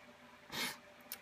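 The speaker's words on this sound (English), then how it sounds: "sorry, I'm gonna sneeze." A single short sneeze, a breathy burst in a quiet room, followed by a faint sniff.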